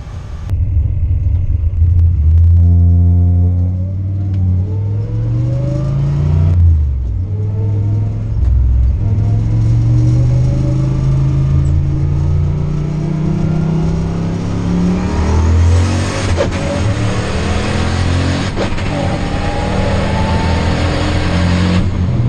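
A street car launches hard and accelerates down a drag strip at a Street Car Takeover event, engine note climbing steadily through the gears with loud rumble and rising harmonics for over twenty seconds, no talking.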